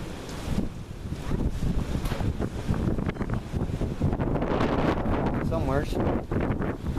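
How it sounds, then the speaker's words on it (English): Strong outdoor wind buffets the microphone in loud, continuous low rumbling gusts for the whole stretch, with brief voice-like sounds over it. "there's a lot of wind"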